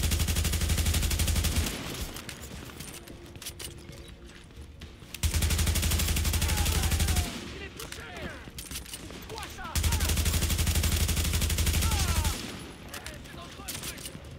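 Automatic gunfire from the video game The Division rattles in long sustained bursts separated by quieter gaps, fairly loud with game effects underneath.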